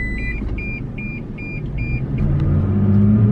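A Toyota Tacoma pickup rolls along at about 30 mph, heard from inside as a steady road rumble that builds toward the end, with a short series of regular electronic beeps early on.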